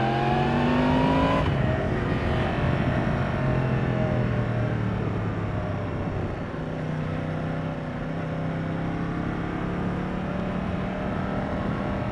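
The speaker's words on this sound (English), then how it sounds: "the CP4 engine's uneven firing interval makes music for the ears" A Yamaha motorcycle with a CP4 engine riding on sweeping roads, giving a steady, loud engine drone with shifting pitch as it revs and eases off, heard continuously from on the bike.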